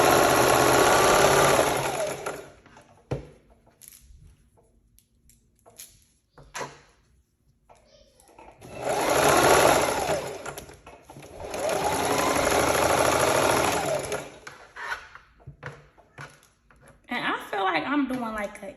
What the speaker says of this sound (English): I'm just using white thread.